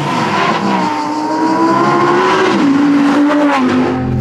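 A Lamborghini Huracan Tecnica with a V10 engine pulls away, its loud, close engine note rising and shifting pitch as it accelerates, with no talking.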